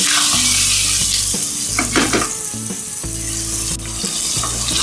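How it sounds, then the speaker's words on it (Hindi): Okra and tomato masala sizzles and fries steadily in a pan, with occasional stirring scrapes and a faint steady hum underneath, close and continuous with no talking. "अब इसको हम टमाटर का पानी खुश्क होने तक इसको फ्राई करेंगे।"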